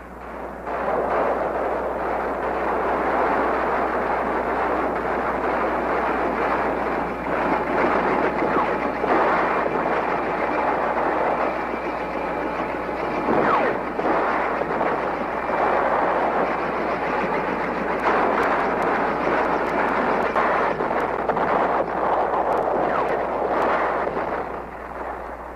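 Artillery rounds slam down in a relentless barrage during the Battle of Khe Sanh, a dense, unbroken roar of overlapping explosions and rumbling booms sustained for the whole stretch with no voices.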